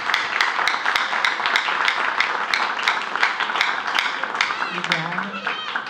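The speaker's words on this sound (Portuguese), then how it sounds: "Vamos bater salve de palmas para os aniversariantes." A church congregation at a Sunday worship service claps for the birthday celebrants, giving dense, steady applause throughout with sharp individual claps standing out. A voice rises briefly near the end.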